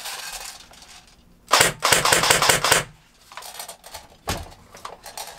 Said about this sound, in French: Ça s'enclenche, ça passe bien.